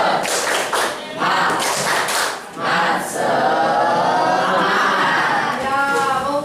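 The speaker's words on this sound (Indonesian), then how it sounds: "Tepuk semangat." A classroom of students performs a rhythmic spirit clap, bursts of quick loud clapping in a patterned beat with short pauses, mixed with chatter and chuckles close by.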